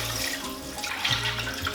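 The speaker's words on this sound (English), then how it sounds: "we're going to fill it full of water" Tap water pours steadily into a cooking pot being filled for ramen, a continuous close rushing splash with no voices.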